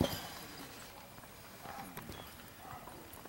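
Horse hooves clip-clop faintly in a quick, uneven series of soft knocks over low background noise.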